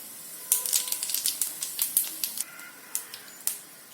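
Fennel seeds spluttering in hot coconut oil in a pan for Madurai mutton sukka, a rapid irregular run of sharp crackles and pops, close and fairly quiet, with no talking.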